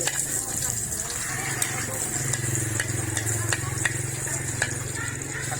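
Steady sizzling of garlic frying in hot oil in a pot, with a low continuous hum and occasional scraping clinks throughout.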